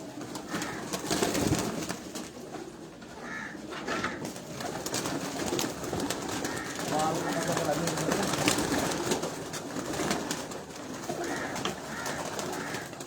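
Pigeons coo on a rooftop loft in Punjab among a large flock, soft repeated calls under a continuous background murmur with some voices nearby.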